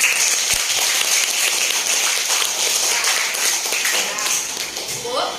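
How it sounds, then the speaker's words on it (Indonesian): Students clap together in a classroom, a steady wash of applause that runs the whole time at an even level and tapers slightly at the end, with some voices mixed in. "tepuk tangan buat temennya"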